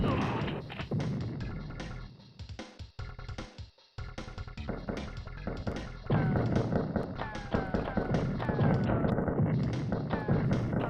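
Rocket explosions from enemy rocket launchers in the True Lies video game, repeated heavy thuds and blasts over continuous game music and effects, loud and dense with a brief dropout midway.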